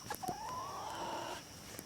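A chicken on a small poultry farm gives a single drawn-out, rising call lasting about a second, close and fairly quiet, with a few faint clucks and rustles around it.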